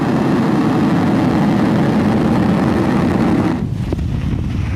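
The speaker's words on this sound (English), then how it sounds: "Ignition. And liftoff of Falcon 9." A SpaceX Falcon 9 rocket lifts off with a loud, continuous roar that fills the whole stretch. It eases and thins slightly near the end, and no voices are heard.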